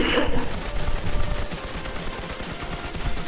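Rapid bursts of gunfire rattle continuously in the WarZ video game, dense and loud throughout the clip.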